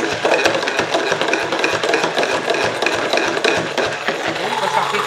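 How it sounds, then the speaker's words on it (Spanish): Garlic with salt and oil being pounded and worked for alioli in a kitchen, a dense run of quick, close knocking and scraping strokes at a steady pace with no talking over it. "Los ajitos así. Que se pique."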